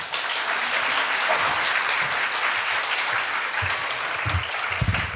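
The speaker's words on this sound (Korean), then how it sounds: "우리 큰 박수로 환영하겠습니다" At a Korean church service, the congregation gives warm applause to welcome a first-time guest. Many hands clap in a steady, dense patter for about five seconds, with a few heavier claps near the end.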